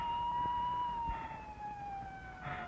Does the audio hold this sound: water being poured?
no